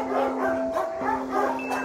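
Dogs bark and yip from cages at a hot animal shelter in Marseille, with a few short, close barks and a whimpering tone over a busy, echoing room.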